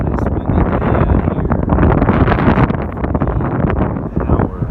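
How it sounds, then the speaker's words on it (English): Steady, loud wind buffeting the microphone, a continuous roaring rush with gusty fluctuations throughout, in northern Indiana. "Nice windy day out"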